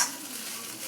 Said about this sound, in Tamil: கடுகு பொரியறது, கருவேப்பிலை பொரியறது, அது ஒரு இசை.